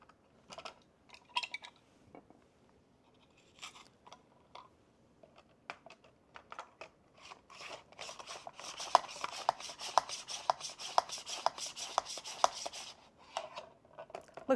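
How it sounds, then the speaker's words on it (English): An onion being sliced in a kitchen slicer on its second setting, with sparse crisp cuts at first that turn into a steady run of quick, light chopping clicks, close and fairly quiet. "Okay, let's slice an onion. We're going to do it on the second setting."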